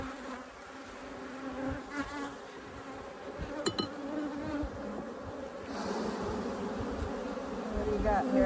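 A dense, steady buzz of many honey bees swarming around a hive, continuous and close, with no talking.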